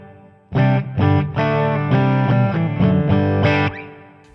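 Distorted electric guitar chords played through a Sonicake Matribox effects unit, strummed in a steady riff, loud and sustained, with a roomy hall reverb tail ringing out after the final chord.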